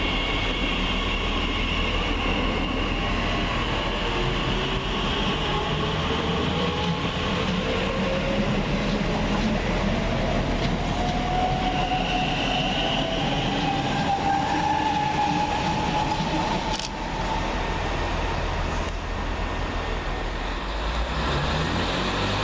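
A TfL Rail Class 345 electric train, unit 345046, pulls out of London Paddington on a Reading service, its motor whine rising steadily in pitch over a loud continuous rumble, with faint rail clicks near the end.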